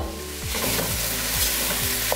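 Lentils tossed into hot oil with vegetables sizzle and crackle up close while a utensil stirs them in quick scraping strokes, loud and continuous without talk.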